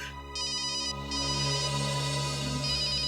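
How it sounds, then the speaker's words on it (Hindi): A mobile phone ringtone plays a repeating electronic melody, moderately loud and steady for a few seconds against a faint background hum, with no speech. "किसका फोन है?"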